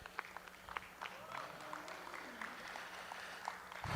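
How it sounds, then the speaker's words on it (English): Faint, distant applause from the audience at a Milking Shorthorn cattle show at the Kentucky State Fair, a steady patter of claps filling the arena for several seconds. "Let's give these exhibitors in this winter calf class a round of applause."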